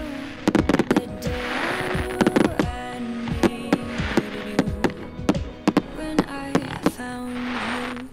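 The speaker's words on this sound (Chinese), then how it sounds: "好厉害啊，我几年都没有看过烟火了。" Fireworks set off in the desert at night, with a rapid series of sharp pops and cracks, some close and loud, others scattered, over a continuous background of crackle and hiss.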